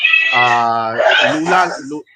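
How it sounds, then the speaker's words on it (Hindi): A cat meows in the background of an online debate call, a drawn-out, wavering cry heard together with someone talking over it. "कौन सी बिल्ली पाल के रखा है भाई?"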